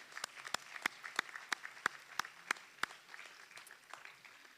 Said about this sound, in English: Let's give all of our Honor Society students a round of applause.